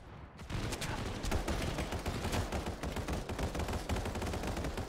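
Rapid, continuous gunfire from a match of Final Fantasy VII The First Soldier starts abruptly after a short quiet moment. It carries on as a loud, steady stream of shots with almost no talking.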